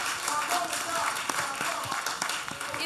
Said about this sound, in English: Please, a round of applause for all of you.